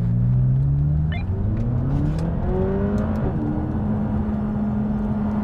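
A Mercedes McLaren SLR and a McLaren 540C roar as they accelerate hard in a rolling drag race from 60 mph, pitch climbing through the gears, a loud sustained rumble with no talking.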